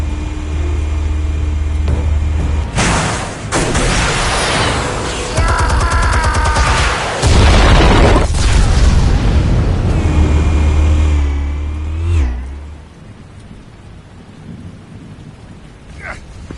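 Explosives detonating in Assassin's Creed Valhalla, heavy rumbling blasts and deep booming roar that fill most of the stretch with crackling debris, loud and sustained before dropping away to quiet ambience.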